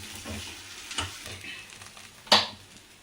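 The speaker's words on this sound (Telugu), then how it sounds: "కొంచెం నూనె పోస్తాను" Oil hits a hot pan for aloo paratha and sizzles in soft, uneven bursts that fade and return, with one sharper crackle near the end, close by and with no talk.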